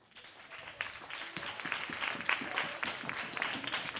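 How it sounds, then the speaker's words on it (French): An audience claps loudly for a guest, Monsieur Mangone Bisseri Elvis, invited onstage at a children's show. The applause is dense and sustained, swelling after a quiet start and holding steady to the end. "Dès que j'ai dit son nom, vous avez applaudi bien fort là."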